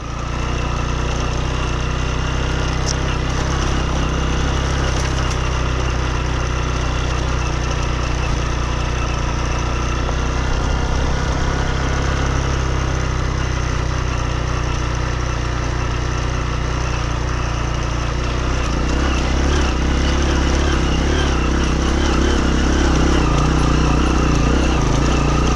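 A motorcycle engine runs steadily on a residential street awaiting asphalt, a continuous mid-distance rumble that grows slightly louder and rougher toward the end, with no talk.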